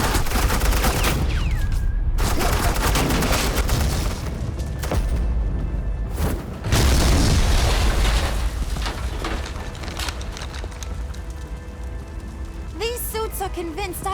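Suppressing gunfire in the video game Batman: The Enemy Within, loud sustained bursts of automatic fire and booms over a dense battle din, with brief gaps and a faint electronic sweep near the end.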